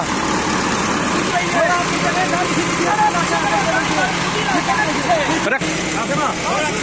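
Massey Ferguson tractor engine running steadily while hauling an overloaded sugarcane trolley up a rough dirt ramp, a constant loud low drone with background voices shouting over it.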